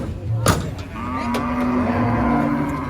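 Cattle are unloaded from a truck at a livestock market, with a sharp clatter of hooves or metal followed by a long low moo close by over steady crowd and engine noise.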